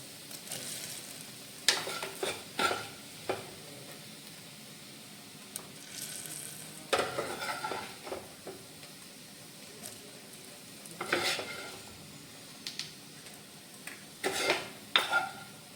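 Spice powders frying in oil for a green peas curry give a soft, low sizzle, broken by repeated clinks and scrapes of a spoon against the pan as everything is stirred.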